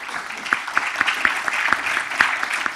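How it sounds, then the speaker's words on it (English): An audience at a tech coding competition's grand finale and award ceremony applauds in a dense, moderately loud wash of clapping with a few sharper claps standing out. "Can I please have a huge round of applause?"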